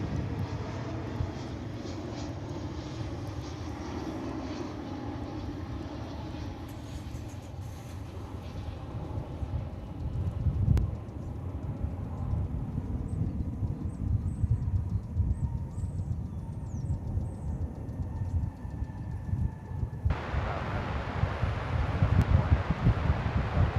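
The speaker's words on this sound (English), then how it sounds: "As we watch this American Airlines A319 coming in from Calgary in Canada." An American Airlines Airbus A319 landing at Dallas/Fort Worth Airport: a steady, distant roar of the jet mixed with heavy wind buffeting, the rumble swelling slightly toward the end.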